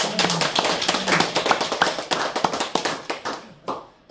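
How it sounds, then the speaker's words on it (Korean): A small audience claps in encouragement at an autobiography-writing lecture: distinct, close individual claps in a brisk, uneven patter that thins out and stops near the end. "우리 김희찬 선생님을 위해서 응원의 박수."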